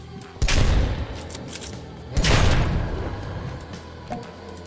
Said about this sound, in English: Let me show you the blunderbuss.